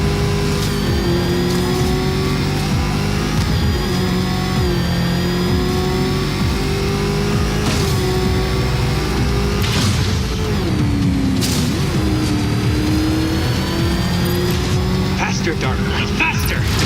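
Batmobile engine in Batman: Arkham Knight roaring at high speed, a sustained loud drone whose pitch rises and dips with acceleration, under spoken game dialogue.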